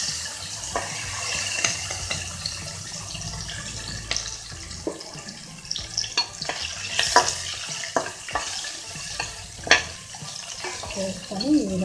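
Boiled chickpeas fry in a pan while they are stirred, giving a steady close sizzle broken by scraping and clinking of the spoon against the pan.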